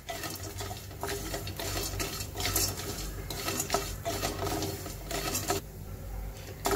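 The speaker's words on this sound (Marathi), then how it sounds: "सुपारी आपली परतून झालेली आहे, छान खडखडीत लागतेय भाजताना सुद्धा" Finely cut areca nut pieces roast in ghee in a pan and get stirred, a close, busy dry rattling and scraping of hard bits against metal, continuous with uneven bursts and no talking.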